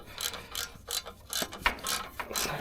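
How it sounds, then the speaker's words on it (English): Quick bursts of a hand ratchet clicking as it tightens torque converter bolts on a 4L60 transmission in a turbo LS swap, several short spaced strokes with brief pauses, close and fairly quiet, no talk. "We're just gonna tighten up these converter bolts"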